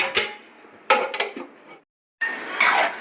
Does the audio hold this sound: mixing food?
yes